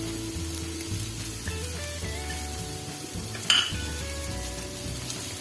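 Cashews, green chillies, ginger and garlic sauté in a pan with a steady, soft sizzle, stirred with scraping and an occasional sharp clink of a spoon against the metal.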